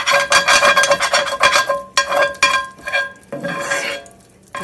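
Metal utensil scraping the bottom of a still-warm pan with lard, bringing up browned bits after cooking canned meat; repeated rasping strokes with clinks, close and fairly loud, with brief pauses between bursts.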